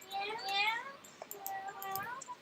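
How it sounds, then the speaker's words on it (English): A cat meows in a few rising and falling mews, fairly quiet and close, with light clicks and small background sounds around it. "What was that cat noise?"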